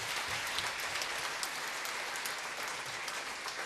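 A Korean church congregation claps together to give glory to God, a dense, continuous patter of many hands at moderate level, steady from start to finish with no voices.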